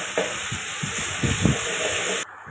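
Garlic fries in a little oil for a pabda fish dish, producing a steady close sizzle with a few stirring scrapes before it cuts off abruptly.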